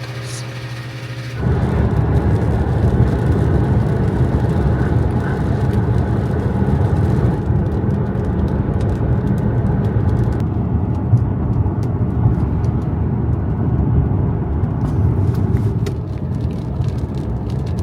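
Car cruising along a coastal highway on the Gaspé Peninsula, Quebec, with a steady, loud road and engine drone that holds unbroken after a brief quieter opening.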